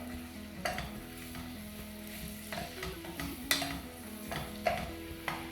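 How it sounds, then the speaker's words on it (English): Onions fry in butter in a saucepan while being stirred, a soft, even sizzle broken by occasional spoon scrapes and clicks against the pan, quiet and close. "I'm just going to stir these around until they get nice and coated with the butter."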